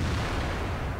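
A tank cannon fired in a World of Tanks-style video game, a single heavy, loud boom with a rumbling low-end tail that fills the whole second.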